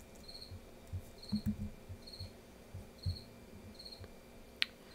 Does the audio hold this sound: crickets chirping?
yes